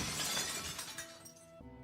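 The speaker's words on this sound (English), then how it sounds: "The cup of warm water shatters in her hand, leaving only one sharp piece of glass." Glass cup of warm water shattering in a character's hand in a Girls' Frontline game scene, a loud bright crash with scattering shards tapering off, followed by a faint ringing tone, no talking.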